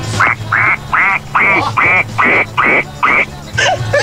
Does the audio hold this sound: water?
no